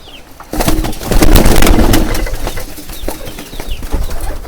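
Birds flutter and call close by, with a burst of wing flapping and soft cooing over a busy, rustling background.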